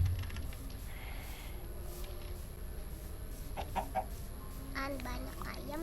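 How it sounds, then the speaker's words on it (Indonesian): Chickens in the Minecraft video game give a few short clucks over a steady background hum, with a voice talking faintly nearby. "Banyak ayam di situ."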